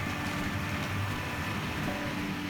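A small Tri-ang Railways R.259 Britannia class model locomotive runs with a steady mechanical whir and rumble, a constant hum of motor and wheels with no pauses.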